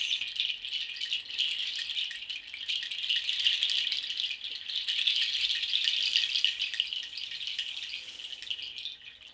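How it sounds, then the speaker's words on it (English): A canary chime, a shaker-like instrument made of small seed pods, rattles in a steady, dense hiss of fine clicks throughout, close and fairly soft, with gentle swells in intensity and no voices. "This is the sound of the canary chime."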